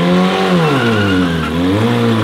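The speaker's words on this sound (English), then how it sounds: "That's the first burnout ever where the front wheels were more entertaining than the rear wheel." A car does a burnout with its front wheels spinning, the engine revving hard and close, its pitch falling and rising in waves over screeching, squealing tyres.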